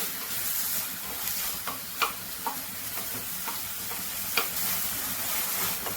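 Tomatoes fry with garlic and green chili in a pan, giving a quiet continuous sizzle with occasional soft clicks of a spoon stirring, close and alone without voices.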